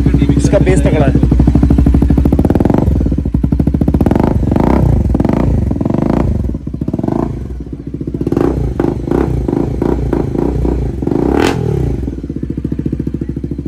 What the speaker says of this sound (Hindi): मीवी आ चुका है, टाइटेनियम मीवी, इसका सुनते हैं साउंड कैसा है।